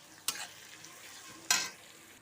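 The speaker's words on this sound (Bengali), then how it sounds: "দিয়ে দেব থেতো করা রসুন, পেঁয়াজের সাথে রসুনটা ভালো করে ভেজে নেব" Crushed garlic and onion frying in a pan for village-style ghugni with cauliflower, heard as two sharp stirring scrapes over a faint low sizzle, with no talking.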